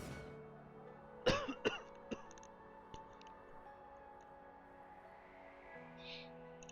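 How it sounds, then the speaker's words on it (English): Two sharp coughs close to the mic, followed by a lighter throat sound, over a quiet room hum. "Got a cough, hold on."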